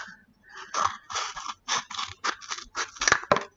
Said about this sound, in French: on prend le ciseau et on découpe les pétales